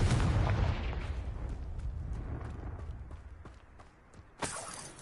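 A Confringo fire spell cast in Hogwarts Legacy bursts with a loud booming blast at the start, its rumble fading over a few seconds before a second sharp burst near the end.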